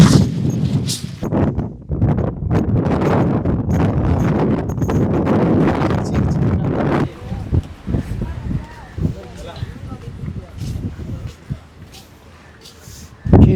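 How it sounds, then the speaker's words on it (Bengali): Strong wind gusts on the Chilika lake shore buffet the microphone in heavy rumbling blasts for the first half, easing into lighter gusts as a voice talks throughout. "এত হাওয়া।"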